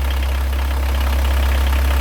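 A VW Golf Country Syncro diesel engine idles steadily while warming up, a loud, close, even low rumble with a faint knocking texture and no talk.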